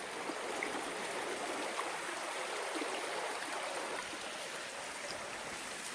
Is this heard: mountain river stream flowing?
yes